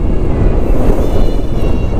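Strong, gusty wind of a super typhoon in Manila roars and buffets the microphone in a loud, continuous rumble, with no voices.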